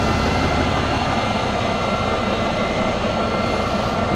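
A jet engine in the American Truck Simulator video game gives off a steady, dense whine with a harsh, saw-like edge, holding at an even level throughout.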